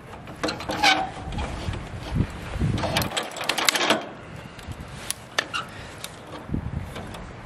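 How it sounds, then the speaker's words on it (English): A bolt cutter snaps through a steel lift cable on a trailer's Gorilla Lift, giving a few sharp metallic clicks and crunches amid close handling clatter, with no speech. "so we have a bolt cutter"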